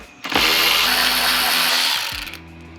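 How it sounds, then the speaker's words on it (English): A power tool with a 10mm socket spins out screws on a 2022–2025 Honda Civic 2.0L engine bay, a loud steady whine of about two seconds with a brief pause and restart at the end. "we got to remove these 3 screws using a 10mm socket"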